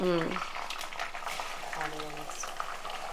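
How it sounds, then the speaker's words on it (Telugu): Food frying in a pan for a home-cooked curry bubbles and sizzles softly and steadily, with a voice speaking briefly over it. "వేపుతాం కొంచెం"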